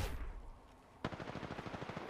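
Gunfire in the Apex Legends video game: a single shot rings out at first, then a rapid burst of automatic fire rattles steadily, fairly close and loud, with no talk.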